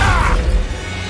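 A Descendo spell in the Hogwarts Legacy video game lands with a heavy, loud slam and crash. A short rumbling impact fades into a low tail.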